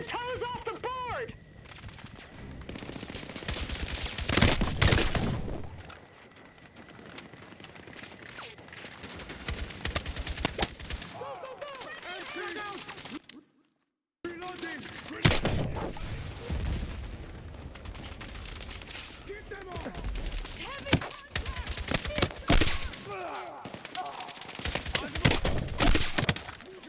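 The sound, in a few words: gunfire in the video game Battlefield 6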